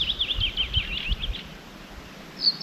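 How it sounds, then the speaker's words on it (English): Several wild birds chirp and sing in Arctic summer nature, short high calls repeating through the first half and again near the end, faint against quiet rustling, with no talking. "just listen to how many birds you can hear"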